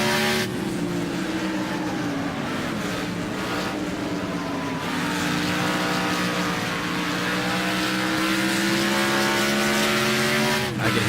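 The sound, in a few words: race car engines in video game Wreckfest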